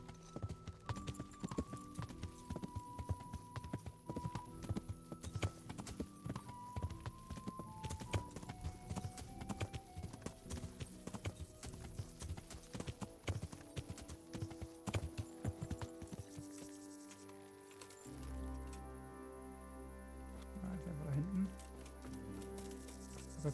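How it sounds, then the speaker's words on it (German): Horse hooves clip-clop steadily through most of the ride in the medieval role-playing game Kingdom Come, with someone talking over the galloping and game music taking over near the end. "Ich glaube, wir müssen trotzdem reiten."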